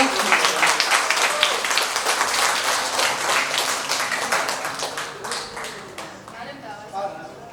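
Applause from an audience at a children's studio graduation celebration, dense clapping that carries on steadily for several seconds and slowly tapers off, with some talk mixed in.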